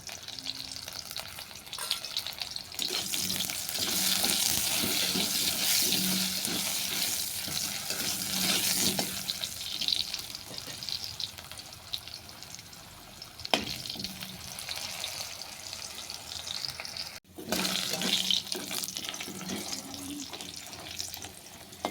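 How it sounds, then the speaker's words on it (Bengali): Chunks of elephant foot yam fry in a pan, with a steady, close sizzle broken by repeated scraping stirs for about twenty seconds, and no talking. "ওলটাও নেড়ে সেটা বাদামি করে ভেজে নিলাম"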